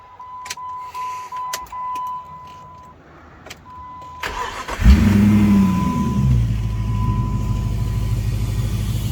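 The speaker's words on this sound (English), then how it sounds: "Bit of exhaust rattle, as you heard." A Ford Falcon XB GS V8 engine cranks and roars to life, then settles into a loud, steady, deep idle with a rough exhaust rattle buzz, preceded by a chime and clicks.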